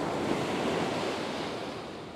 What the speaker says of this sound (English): because the waves are breaking close to shore, I'm not casting very far at all